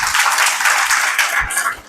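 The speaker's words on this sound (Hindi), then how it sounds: "फिर ताली बजाओ भाई इनकी" Clapping from a small audience at a spiritual talk session, a short burst of hand claps rising and then fading out near the end.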